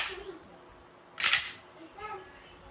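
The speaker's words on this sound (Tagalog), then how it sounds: "Testing Glock 19X Gen 5 by ENC Airsoft Pistol." A single sharp, loud crack from an E&C Glock 19X Gen 5 blowback airsoft pistol firing, standing out between quieter stretches of faint speech.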